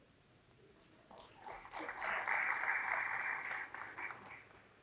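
Audience applause at a Central Park construction kickoff program swells into a moderate crowd clap, sustained for a few seconds at a distance before thinning out.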